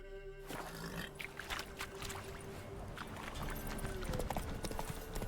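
Roach the horse galloping in The Witcher 3: Wild Hunt, a steady rhythmic hoof beat running throughout at close range, with a low droning game ambience underneath and no talk.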